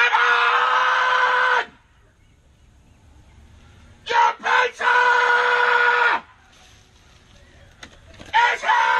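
A pizza delivery man outside a door screams several loud bursts of shouting, broken by quiet pauses.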